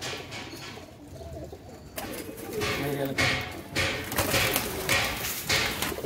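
Pigeons cooing close by in a repeated throaty rhythm, with scattered thumps and some background voices.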